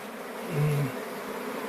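A swarm of honey bees settles into a new hive in late August, a soft continuous buzzing hum with one brief louder drone as a bee passes close by; faint and without talk.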